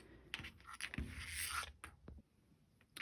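Sewing machine stitching the cuff of a knit cardigan, a short mechanical whirring run with clicking, ratcheting parts up close, then dropping off to a quieter tail, with no voices.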